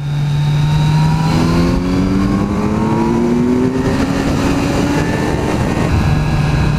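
A Kawasaki Z900 roadster's engine revs hard under acceleration, loud and close, its pitch climbing steadily through the gear before dropping briefly at a shift and rising again, with wind noise over it.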